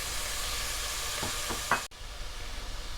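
Tomatoes go into a pan of lightly cooked frying onions and are stirred, giving a constant moderate sizzle with a few soft scraping strokes and a dull knock partway through.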